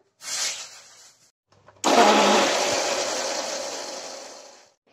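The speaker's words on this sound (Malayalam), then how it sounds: "നമുക്കിതെല്ലാം ഒന്ന് മിക്സിയിലിട്ട് അരച്ചെടുക്കാം" A mixer grinder grinding raw yam chutney whirs loudly and steadily for about three seconds after a short burst of motor noise, then cuts off abruptly.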